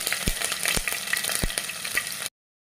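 Five garlic cloves sizzling in hot coconut oil, a dense, close frying hiss with a few sharp pops and stirring knocks, cutting off abruptly into silence.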